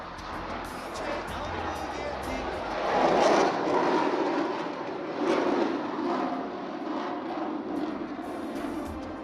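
A Tejas fighter jet with a GE404 engine taking off at Ambala airbase, a loud broad engine roar that swells to a peak and then eases off, with a voice and crowd murmur under it.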